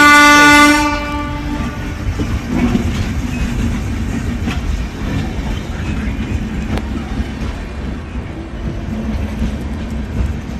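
A train horn sounds briefly at the start, then the KK Express passenger train, leaving Solapur for Delhi, rumbles and clatters steadily past nearby under a railway bridge, loud and continuous.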